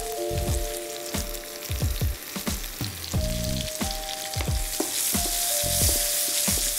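Onions sizzle loudly in a pan after bell pepper has gone in, with repeated scraping and clacking stirs striking in a rough rhythm over a constant frying hiss.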